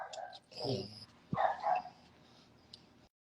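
A small French Bulldog gives a few short, sharp barks at close range, mixed with a person's voice talking nearby.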